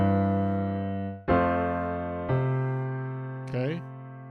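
Piano chords over changing bass notes, four sustained struck chords spaced about a second apart, close and full, each ringing into the next, the last one brief and brighter.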